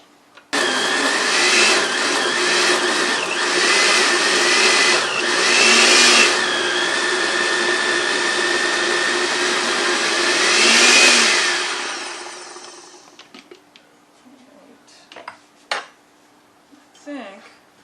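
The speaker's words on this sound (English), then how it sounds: "We're going to get out our blender." A countertop blender whirs loudly and steadily for about twelve seconds, pureeing fruit with SCOBY for fruit leather, its pitch shifting as the load churns, then cuts off, leaving a few sharp kitchen clatters.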